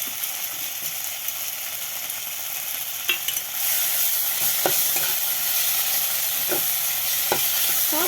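Spices with turmeric, chili and tomato are stirred in a hot pan, a steady sizzle under a few distinct spatula scrapes and knocks, loud and close, with nobody talking.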